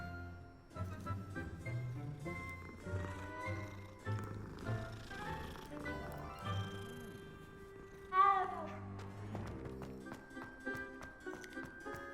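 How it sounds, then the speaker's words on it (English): A cat meows a few times in the video game Hogwarts Legacy over soft background music, with one brighter, sharper call standing out partway through. "There's a kitty, a meow meow."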